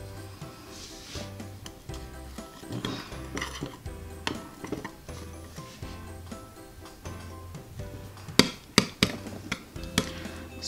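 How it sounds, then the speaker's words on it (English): Elmer's slime is mixed in a bowl, producing repeated knocking and clinking strokes of the utensil against the bowl, irregular in rhythm, close, with a few sharper louder taps near the end. "So we're gonna mix and mix away now."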